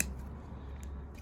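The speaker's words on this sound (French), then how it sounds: "Celui-là est un petit peu dur, on n'hésite pas à couper." Scissors snip through a tough, hard Sarracenia pitcher-plant leaf, giving a couple of faint, quick close-up clicks against a quiet background.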